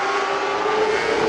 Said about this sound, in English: That 87 car, driven by Kelvin Lewis.